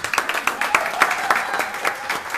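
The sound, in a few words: audience applause at a political conference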